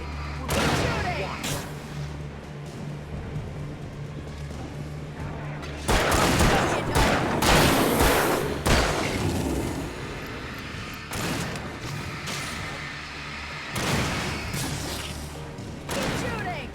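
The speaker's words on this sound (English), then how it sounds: "Keep shooting!" Gunfire in the survival horror game Alan Wake: loud clustered shots and booming bursts in several waves, with quieter stretches between, mixed with shouted voices.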